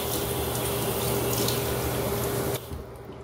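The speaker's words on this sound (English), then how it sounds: "once you feel you've done a good job, just wash that off." Water from a tap runs steadily into a sink as face wash is rinsed off, a broad continuous splash that cuts off sharply near the end and leaves a quiet room.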